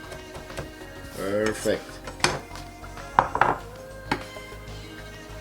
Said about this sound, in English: Now we're gonna give it a little chop.